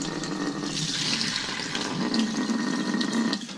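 Tap water runs steadily from a faucet at moderate volume, a continuous splashing wash used for rinsing produce, with no talking.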